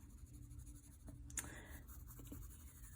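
A pencil's chisel tip rubs back and forth on paper, making a soft, close scratchy scribble with a few sharper strokes, quiet and alone.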